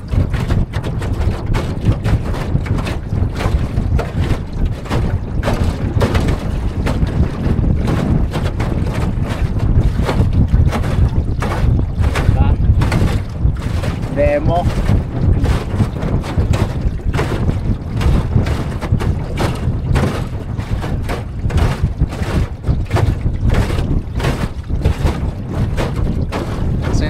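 Gusty wind roars and thumps against the microphone for a long stretch, with waves slapping around a small 12-foot Lowe boat with a Makita electric motor; a voice speaks briefly.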